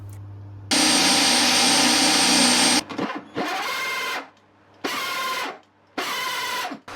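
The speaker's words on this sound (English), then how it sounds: "drilled out the lens hole" A power drill bores a lens hole through a wooden photo booth panel: one long, loud whirring run, then several shorter bursts separated by brief pauses, close and without talk.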